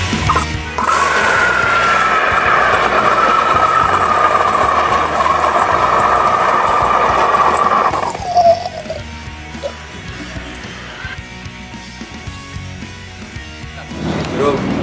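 A homemade hybrid rocket motor firing on a thrust-measurement test stand with nozzle and thermocouple, roaring loudly and steadily for about seven seconds before cutting off, followed by quieter background noise.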